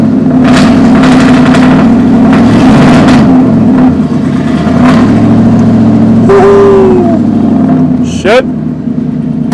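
A truck engine running loud and close, revving with low droning harmonics and pitch rising near the end, while a voice talks over it.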